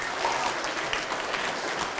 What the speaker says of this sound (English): Could we have a round of applause for our first volunteer?